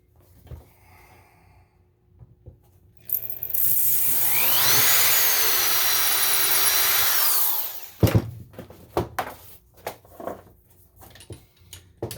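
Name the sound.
power drill drilling a hole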